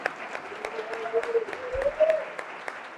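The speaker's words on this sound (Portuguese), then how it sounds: "Uma salva de palmas aí para eles." An audience claps to welcome new students at a school anniversary event in Brazil, a moderate, continuous patter of hands, somewhat distant, with faint voices beneath it.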